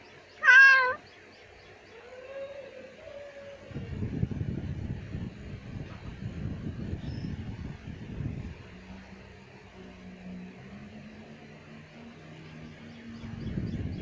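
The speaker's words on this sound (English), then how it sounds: "Who's the good kitty? Are you hungry?" Short meow from a cat in the visual novel The Letter, heard once near the start and fairly loud, followed by low rumbling ambience and quiet background tones.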